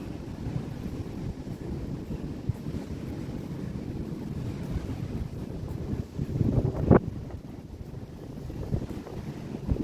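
Steady wind buffeting the microphone at Coney Island, a low continuous roar with a brief louder gust near the end, likely outdoors by water.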